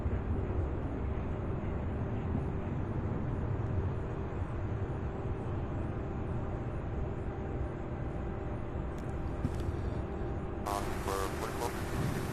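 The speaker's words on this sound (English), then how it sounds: "first takeoff on the south flow from the other side there, 17 left" A jet airliner or business jet takes off from runway 17 left at Louisville International Airport, a steady broadband engine roar holding for the whole stretch, with a brief rise of hiss and faint chatter near the end.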